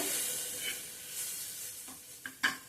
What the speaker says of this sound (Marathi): हे वाटण आपण छान असं परतून घेणार आहोत। फार नाही, 1 मिनिट परतून घ्यायचे।